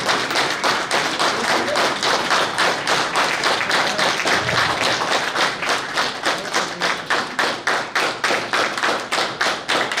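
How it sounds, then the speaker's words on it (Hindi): A crowd in a hall claps together in a fast, even rhythm, loud and sustained throughout, with no speech over it. "तालियां की गड़गड़ाहट से पूरे हॉल गूंजनी चाहिए।"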